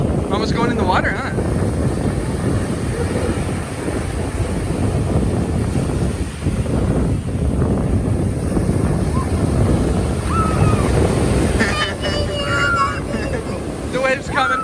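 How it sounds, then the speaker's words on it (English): Ocean waves wash in on a beach during a family outing, a steady broadband surf roar with wind buffeting the microphone throughout, and voices of a parent and children talking and calling over the water. "The wave's coming for Mom. It got her."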